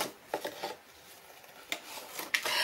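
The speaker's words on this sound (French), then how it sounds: "cette pochette-ci, je vais venir biseauter mes angles" Someone bevels the corners of a paper pocket for a photo album, making a few short, quiet scraping and rubbing strokes that come in soft bursts against a quiet background.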